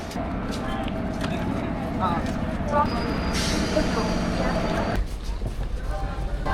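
Steady rumble of a passenger train in India running along the tracks, a dense low roar with rattling and clanks throughout, dropping to a lighter hum near the end.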